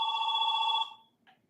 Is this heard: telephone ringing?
yes